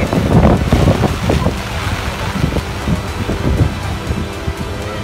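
Steady wind buffets the microphone in low rumbling gusts during a typhoon, with faint engine and flood water noise underneath throughout.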